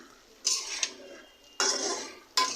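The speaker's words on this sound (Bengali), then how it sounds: "এখন একটু ভালোভাবে একটু নাড়ি দিতে হবে।" A spoon scrapes through a thick rohu fish curry with potatoes in a pan. There are three distinct scraping stirring strokes with brief quiet gaps between them, close and fairly clear.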